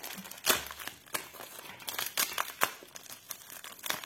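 Plastic packaging around a diamond painting canvas is torn open by hand, giving a string of sharp, close crinkles and crackles in irregular bursts, with no talk.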